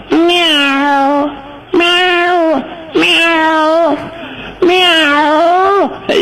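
A cat meows in four long, loud, drawn-out wails, close by, with short pauses between each cry and no talk over them.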